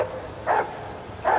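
A dog barking in the video game Rogue Trader: two short, muffled woofs about a second apart, moderately loud over a quiet background hum.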